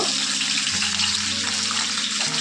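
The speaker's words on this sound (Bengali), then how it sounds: "যেই তেলটা গরম হয়ে যাবে তখন আমি কেটে রাখা পনিরগুলোকে জলের থেকে তুলে আমাদের দিয়ে দেবো" Wet cubes of paneer, lifted straight out of water, sizzle in a pan of hot oil, giving a loud, steady, hissing spatter that continues unbroken and close up with no voices.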